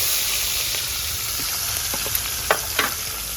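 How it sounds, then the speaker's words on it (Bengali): Small chara pona fish sizzle loudly and steadily in hot oil seasoned with turmeric and salt, with a few sharper spits and crackles near the end and no talking. "এবারে একটা একটা করে মাছগুলো তেলে দিয়ে দেবো।"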